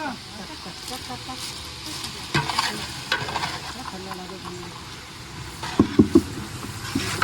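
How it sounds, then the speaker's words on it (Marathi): Ten kilograms of onions frying and being stirred in a large pot for a big mutton batch at an Agri haldi feast, a steady sizzle with scraping stir strokes, louder clanks near the end, and voices in the background. "भरपूर कांदा टाकलेला आहे दहा किलो कांदा आहे"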